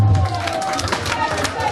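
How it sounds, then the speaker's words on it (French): A crowd at an album release party claps loudly and close by, with scattered cheers and voices mixed into the steady burst of hands. "Est-ce qu'on peut applaudir pour moi, même s'il vous plaît?"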